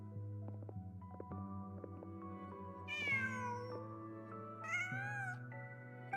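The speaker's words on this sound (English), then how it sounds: "Just a cat." A cat in the video game Genshin Impact meows twice, clear rising calls standing out over a steady droning background tone with no talking.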